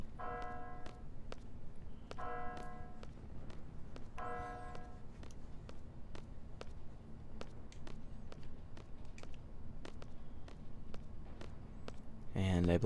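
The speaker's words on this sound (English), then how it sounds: "you need to see the bell strike midnight or whatever" Repeated bell tolls ring out in Final Fantasy VIII Remastered, striking midnight as several spaced chimes over a steady game ambience with regular footstep-like ticks, ending with a louder burst.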